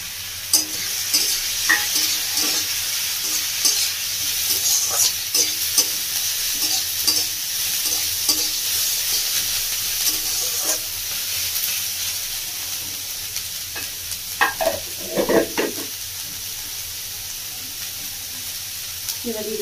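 Soybean frying in a pan while being stirred, a soft steady sizzle under repeated scraping and clattering strokes of the spoon, with a faint voice now and then.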